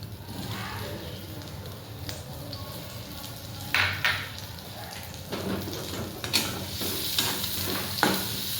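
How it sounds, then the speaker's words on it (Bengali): Chopped onion dropped into hot oil in a pan for kochu chingri, a steady soft sizzle and crackle with a few louder bursts of spatter and stirring scrapes, close and with no talk. "এখানে পেঁয়াজ কুচি দিয়ে দিলাম"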